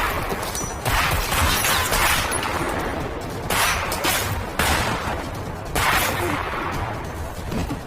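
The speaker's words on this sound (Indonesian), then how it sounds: "Samsul dan Ujang pun terlihat sedang melakukan duet yang indah ketika menembaki beberapa musuh" Gunfire rings out in an action film, dense rapid shots and booming blasts in loud, continuous waves with brief dips, mixed with a faint voice.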